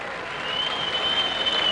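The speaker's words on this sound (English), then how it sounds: "Not a big clap there from young Tasmanians" Scattered applause from a cricket crowd greets a boundary at the 1986-87 McDonald's Cup final between Tasmania and South Australia, a modest, steady patter of clapping heard at a distance, with a thin tonal whine running above it.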